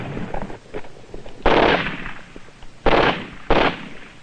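Sharp rifle gunshots from a Vietnam War training film, three loud cracks at irregular intervals, each with a short ringing decay, over quieter background crackle and no talking.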